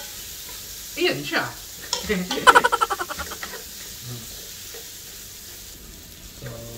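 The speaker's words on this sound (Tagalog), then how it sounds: "Ang patatas. Medyo ipirito lang natin siya." Potatoes fry in a hot pan for pesang tilapia, a soft sizzle running underneath while a spatula scrapes and taps the pan in a quick burst, with someone briefly speaking in Filipino over the cooking.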